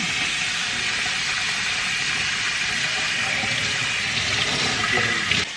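Water runs in a continuous, even rush while a Goldendoodle puppy is bathed, a steady close stream that holds the same level throughout, with no one speaking.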